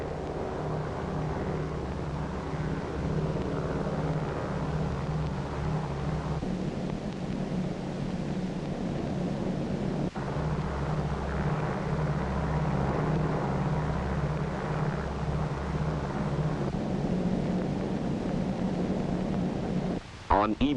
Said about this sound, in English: With her escort of photographic and weather and instrument planes, Dave's Dream proceeds to the Bikini target